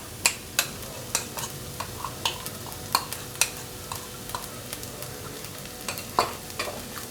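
Masala for bread masala fry cooking in a pan, with a steady sizzle under repeated sharp spatula scrapes and clacks against the pan at an irregular rhythm, close and fairly loud, with no talking.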